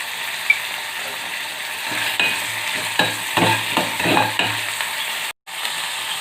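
Green chillies, garlic and ginger sauté in a hot pan, a steady close sizzle broken by several quick scraping stirs of a spatula, with no one speaking.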